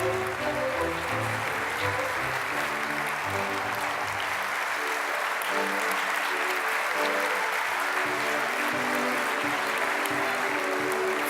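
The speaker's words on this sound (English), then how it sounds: "a warm applause for the first 4 winners from the category Education." Sustained, even applause from a large audience at a European heritage awards ceremony, a continuous wash of clapping with music playing underneath for the whole stretch.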